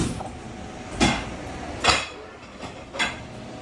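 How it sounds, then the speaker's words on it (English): Dishes and pots clatter in a restaurant kitchen, three or four sharp bangs and clinks spaced about a second apart over a steady background hum. "Why are you slamming dishes and busting the door open?"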